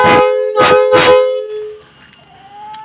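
Three short, loud blasts from a Hino AK truck air horn in a quick even rhythm, then a fading tail and quiet workshop background.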